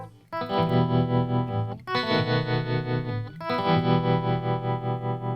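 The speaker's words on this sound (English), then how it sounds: "let's just listen to the tremolo by itself." An electric guitar plays three sustained chords, each pulsing rapidly in volume with a wavering tremolo, strong and close with no voices.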